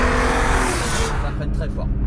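BMW E46 M3 CSL with upgraded brakes braking hard on the road, a loud broadband roar and tire noise dropping off sharply, with a voice talking over the end.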